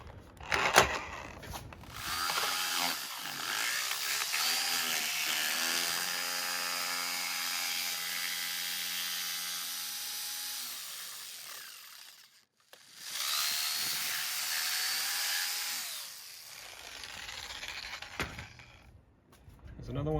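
A jigsaw cuts through a plastic speaker template for tweeter mounting in a 2001 Saab 9-3, two loud sustained buzzing runs separated by a brief pause, with a short clatter at the start.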